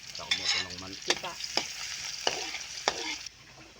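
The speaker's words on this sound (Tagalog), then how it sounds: "Unahin natin ng bawang sa kumukulong mantika." Garlic sizzles in boiling oil for a Filipino jackfruit-in-coconut-milk dish, with a spoon stirring in a few distinct scrapes and knocks over a soft frying hiss before the sound drops off.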